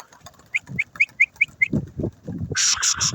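Crimean pigeons flap their wings in a series of quick, close bursts, with a burst of clapping wingbeats at the end.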